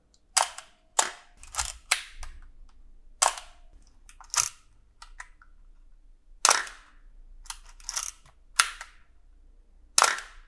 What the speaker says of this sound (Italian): con questo pulsante si scattava la foto